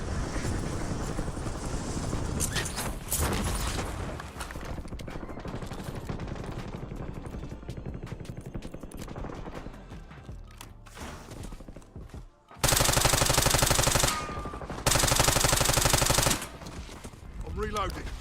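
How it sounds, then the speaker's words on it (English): C9 submachine gun firing in Warzone's Verdansk map, with rapid automatic bursts running through the clip amid busy game noise and two especially loud, dense bursts near the end. "I'm gonna get some shots in with the C9 real quick"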